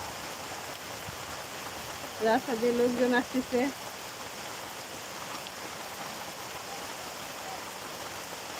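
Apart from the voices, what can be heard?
rain falling outdoors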